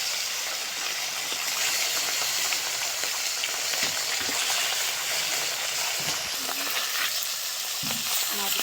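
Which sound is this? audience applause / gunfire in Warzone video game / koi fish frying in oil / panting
koi fish frying in oil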